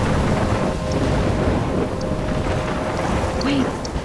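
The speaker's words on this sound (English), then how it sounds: "I'm trapped in a storm?" Storm wind from the game Life is Strange, a loud, continuous roar and rush with low rumbling underneath that stays steady throughout, and no voices.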